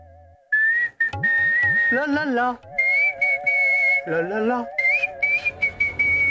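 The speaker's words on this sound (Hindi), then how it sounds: "मैं सीटी बजाता हूँ" A man whistles a clear, warbling tune at close range for several seconds, with short pauses and pitch slides, while another voice talks and sings along briefly.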